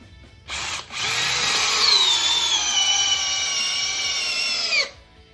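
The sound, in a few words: DeWalt DCD800 drill driving 10-inch Timberlock screw into 4x4 lumber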